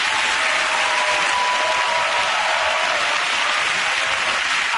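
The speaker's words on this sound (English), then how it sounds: "OK, again, that round of applause for Ed Hugh" A studio audience at a comedy panel show applauds steadily, dense even clapping at full strength from start to finish without pause.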